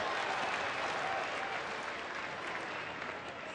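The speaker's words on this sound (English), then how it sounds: "Crowd still filing in." Crowd noise at Coors Field during a baseball game as fans file into the stadium, a dense continuous wash of chatter and movement without breaks.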